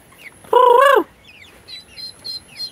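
Hungry month-old turkeys call out, one loud quavering gobble-like cry followed by several fainter high chirps and peeps nearby.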